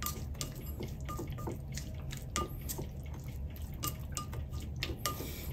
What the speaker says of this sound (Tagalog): Haluin po natin mabuti.